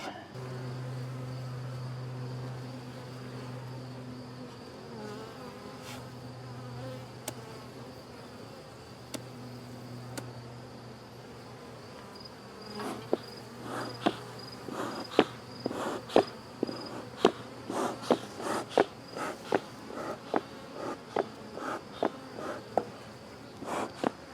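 Agitated honeybees buzz steadily around an opened nuc hive during an inspection, a constant droning hum that later mixes with frequent sharp clicks and knocks of hive handling nearby.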